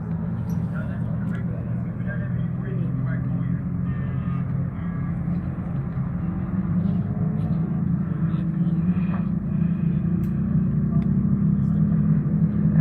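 Thirteen race cars circulate at Winton circuit in a Victorian state series race, a steady low engine drone that grows slightly louder over time, with faint background voices.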